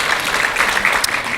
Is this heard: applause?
yes